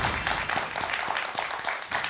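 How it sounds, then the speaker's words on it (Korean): An audience applauding in a studio to welcome a guest mathematics-education professor, a dense close burst of many hands clapping steadily through the moment. "충남대학교 수학교육과 서보옥 교수님을 큰 박수로 맞이해 주시기 바랍니다"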